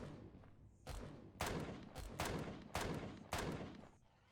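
Gunfire in the space survival game Empyrion, a run of about six heavy booming shots at uneven intervals, each with a lingering rumbling tail, fairly quiet overall.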